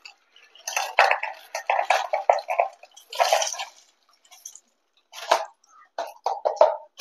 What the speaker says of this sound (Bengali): আর এই ছোট কোটোটায় ঢালছি গরম মশলা।